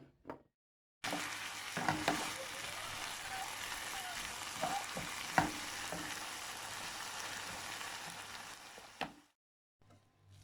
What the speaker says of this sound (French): je mets dans la poêle, je mets un peu de l'huile d'olive